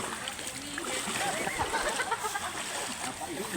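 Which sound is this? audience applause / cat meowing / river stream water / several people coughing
river stream water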